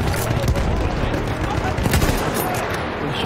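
Battlefield 1 battlefield gunfire, dense overlapping shots and bursts under a constant roar of explosions and noise, moderately loud, with a voice faintly mixed in.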